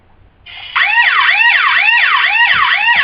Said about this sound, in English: Some police sirens,